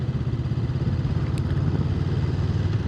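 A motorcycle engine thrums low and steady while gears are shifted down in heavy traffic, the rumble close and continuous with small pulsing variations and no talk.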